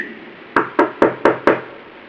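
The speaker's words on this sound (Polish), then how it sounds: "Kto tu puka?" Five sharp, evenly spaced knocks on a door, close and loud, with no other sound between them.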